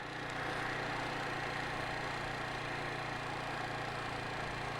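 A Suzuki TU 250 X retro motorcycle engine runs steadily while riding, giving a continuous, even drone with a low hum and no voices.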